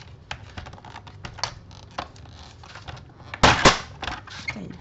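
A paper trimmer cutting card paper for a handmade cube greeting card, with a run of light clicks and scrapes followed by one louder, sharper cutting sound near the end. No one speaks.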